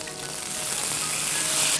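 Soy sauce and water hitting a hot pan with ginger and spring onions, a loud bright crackling sizzle that swells steadily over a couple of seconds, close up.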